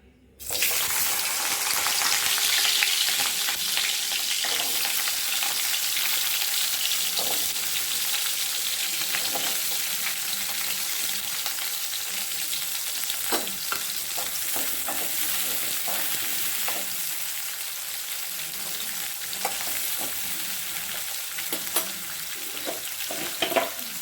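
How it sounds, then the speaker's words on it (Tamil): Onions fry in hot oil in a pan for a spicy chutney, with a constant close sizzle and crackle and scattered light stirring clicks over about twenty seconds, no one speaking. "சட்டி காஞ்சிட்டு இப்போ நம்ம வரமிளகா போட வேண்டாம் சேவந்தரும் நம்ம மொதல் வெங்காயத்தை போட்டுக்கோம்"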